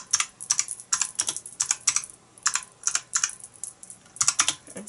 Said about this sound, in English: Why are you typing it in?